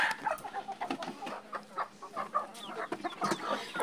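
Several chickens clucking and murmuring close by in short overlapping bursts, with a soft background hiss and no talking.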